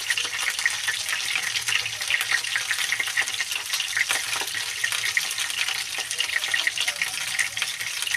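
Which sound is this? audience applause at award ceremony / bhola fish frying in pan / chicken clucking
bhola fish frying in pan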